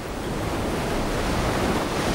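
Ocean waves surge with steady broadband roar into a basalt tunnel blowhole on the Tahiti coast, a continuous loud wash of surf with wind noise buffeting the microphone throughout.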